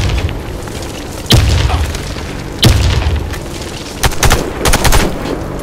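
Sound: grenade explosion in Warface video game

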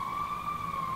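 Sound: police siren in a video being watched

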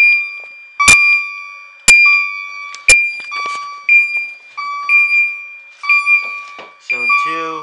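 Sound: fire alarm sounding, Zone 2 activated on Firelight BG12 panel

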